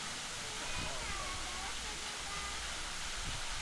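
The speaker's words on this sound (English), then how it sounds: "take a short walk to Biwa Waterfall near the bridge" Biwa Waterfall in Shikoku, Japan, pours with a steady, even rush of falling water that fills the whole moment at moderate loudness, with no voices.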